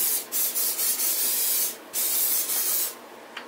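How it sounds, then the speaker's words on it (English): Several bursts of olive oil cooking spray hiss into a pan, a couple of long sprays separated by brief pauses, close and fairly loud with no talking. "you're going to spray it with olive oil spray one more time"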